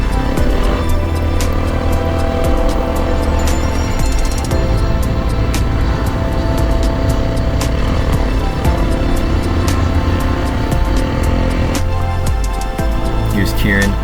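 Dirt bikes open up along a sandy ridge in the Mojave Desert. Loud, continuous engine roar rises and falls with throttle changes, mixed with rushing wind noise throughout.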